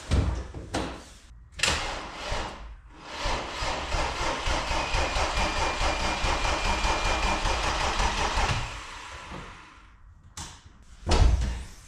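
A BMW E36 325i's starter cranks steadily for several seconds off a jump pack, a rough churning whirr that does not catch, with brief bursts before and after.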